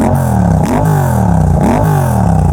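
Suzuki GSX-8R motorcycle with a full exhaust, ECU flash and airbox mod, its engine loud and close, rising and falling through a few quick revs in steady succession.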